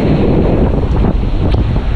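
Strong typhoon-driven sea waves crash under steady, roaring wind buffeting the microphone, a dense, loud, unbroken wash close by on the shore.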